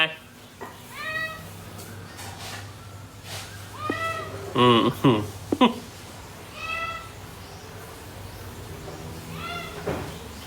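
A cat meows repeatedly at a house, several clear drawn-out meows spread over the stretch, with people talking and some cupboard-like knocks nearby.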